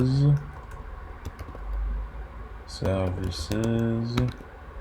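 Typing on a computer keyboard while setting up network firewall rules: scattered soft key clicks under a voice talking in French.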